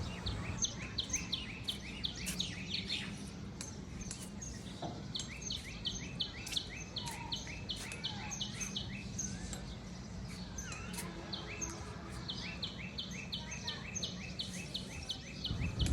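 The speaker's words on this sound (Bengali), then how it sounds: "পাখির চিকচিক শব্দ" Small birds chirp on a rooftop among flowers, repeating rapid, high, twittering calls in quick runs throughout. They are faint and somewhat distant over a soft background hush.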